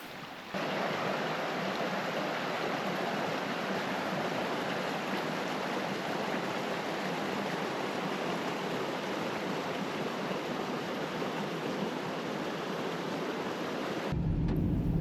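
Creek water rushes past beside the Mountain Loop Highway in rainy Washington mountains, a loud, unbroken broadband roar that holds steady for the whole stretch with no voices.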